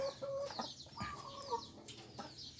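Six caged laying hens cluck and chatter close by, a busy run of short calls and squawks with rustling behind them.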